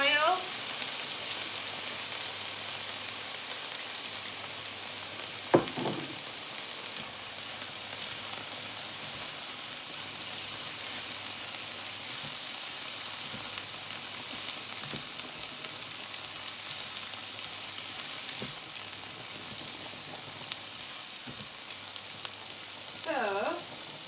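Onions sizzling and frying in a pan for a sweet, sticky finish, a quiet steady crackle throughout, with a couple of brief stirring or utensil scrapes and soft clinks; no talking.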